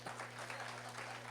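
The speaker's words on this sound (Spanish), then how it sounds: "denle un aplauso al Señor por eso" Faint, distant applause from a church congregation, a brief soft wash of clapping over a low electrical hum.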